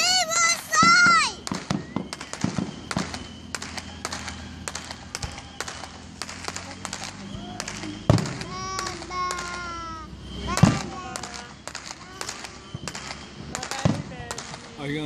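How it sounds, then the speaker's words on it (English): A fireworks missile battery at an early Fourth of July celebration in Auburn, Georgia, fires off a long, rapid series of sharp cracks and pops, some near and some farther off, while children's voices and adult chatter carry on underneath. "Somebody's got a exciting missile battery going on."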